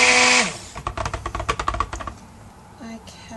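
Oils and coconut milk for soap, mixed at room temperature, are stirred in a container: a quick run of sharp, clicky taps and scrapes over about a second, then quiet handling noise.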